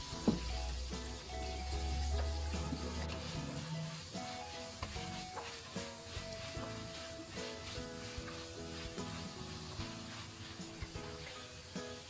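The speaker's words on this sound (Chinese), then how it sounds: "热锅凉油，先下入肉片煸炒一下。" Pork slices stir-frying in hot oil in a wok, a steady close sizzle with scraping and stirring clatter, with no talking.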